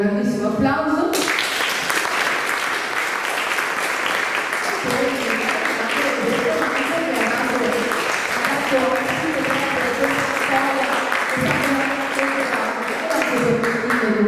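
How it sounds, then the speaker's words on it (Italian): An audience at an evening show in Italy breaks into sustained, loud applause for a performer, dense clapping lasting the whole stretch with faint tonal sounds beneath it. "il mitico Piero Boccaccio, per cui chiedo un grandissimo applauso"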